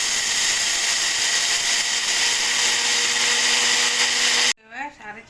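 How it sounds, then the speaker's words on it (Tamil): A kitchen blender grinds rice for arisi uppuma, a steady loud whirring drone that runs continuously and then cuts off abruptly near the end, followed by brief quieter clatter. "பிளெண்டரில் போட்டு கொஞ்சம் கொஞ்சமாக அரைக்க போகிறேன்."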